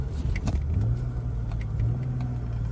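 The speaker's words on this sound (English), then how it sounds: "Engine seems to run pretty smooth." A 1998 BMW 328is with a 5-speed, rescued from a salvage auction after years parked, runs from inside the cabin, a steady low engine drone with a gentle rev rise and faint clicks and rattles over it.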